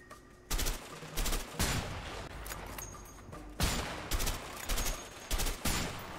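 Bursts of automatic gunfire rattle through a firefight in the co-op video game A Way Out, with several loud volleys separated by brief gaps and a steady game soundscape underneath, and no talk.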